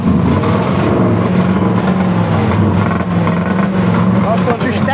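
Throaty V8 engine of a lowered 1968 Ford Galaxie 500 rumbling and revving steadily nearby, with people talking over it throughout.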